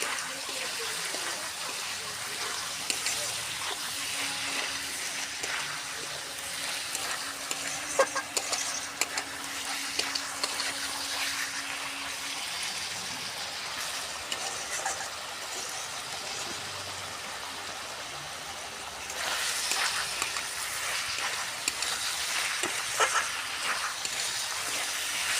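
Food being stirred in a frying pan with a steady low sizzle and scraping, running continuously for about 25 seconds and growing a little louder toward the end, with no talking.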